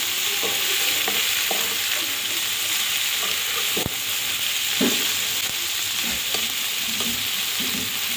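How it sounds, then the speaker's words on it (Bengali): A mash of dried fish and onion sizzles in a hot pan with a constant frying hiss, broken by irregular scraping knocks as a spoon stirs it. "যে কোনো ভর্তা একটু ভেজে নেবেন"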